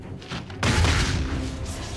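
A Twin Shot attack in the mobile game Marvel Avengers Alliance 2 lands as a loud, booming impact partway through, followed by a sustained rumbling crash.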